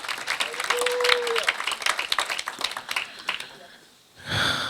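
A church congregation breaks into applause, a rippling wash of many hands clapping that swells and then fades, with a voice rising over it near the end.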